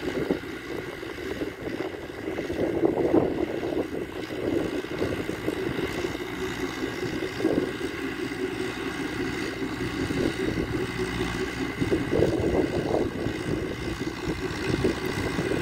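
A Massey Ferguson 290 tractor tills a dry rice field, its engine giving a steady, continuous drone with wind noise throughout and no talking.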